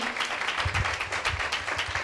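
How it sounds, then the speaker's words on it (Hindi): Congregation at a Hindi-language Christian sermon clapping loudly together, a full steady wash of applause with some low thumping underneath. "एक जोरदार ताली उसके प्रेम के लिए"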